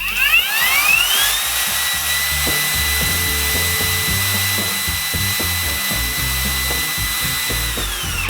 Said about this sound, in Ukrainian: положив велику плитку, слизьку поверхню і хочу перевірити фрезер на балансування